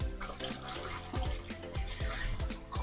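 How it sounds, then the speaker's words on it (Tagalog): Water pours into a container coated with AYXU flexible rubber coating, a continuous splashing fill with faint rhythmic sloshing, quiet and close. "Lagyan natin siya ng tubig."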